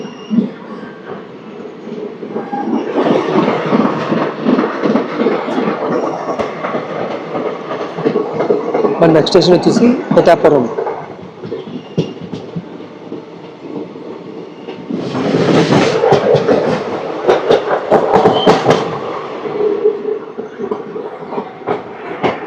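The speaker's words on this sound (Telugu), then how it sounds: "మన ట్రైన్ సామర్లకోట స్టేషన్ నుంచి అయితే బయలుదేరిపోయింది" The 17219 Machilipatnam–Visakhapatnam Express runs loud and close after leaving Samalkot, its wheels clattering in a rumbling rhythm that rises in two long surges, with brief squeals and a voice speaking between them.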